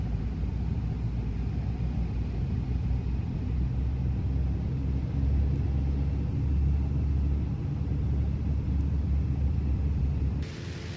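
A Piper PA31's twin piston engines drone steadily in a flight simulator as the plane taxis, a low, constant rumble with no talking.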